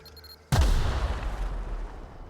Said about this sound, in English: I'm suffering from the explosion.